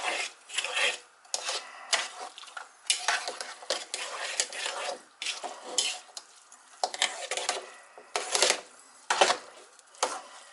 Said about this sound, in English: We're going to mix this stuff all up.